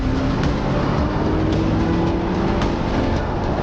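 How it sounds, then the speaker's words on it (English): A Mercedes-AMG Apex Edition car drives with a steady, loud engine drone and road roar that holds throughout, without pause or any voice on top. "Right now we're driving a new AMG Apex Edition with my good buddy Samson KO."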